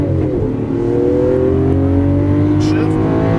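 A green 2012 Lamborghini Aventador at full throttle on a track, its engine revving hard with rising tones, loud and close with the pitch climbing steadily.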